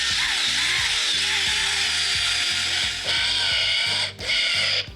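A power tool drives screws on a Harley-Davidson Fat Bob fairing with a loud, continuous mechanical whir and rhythmic pulsing, briefly dipping near the end.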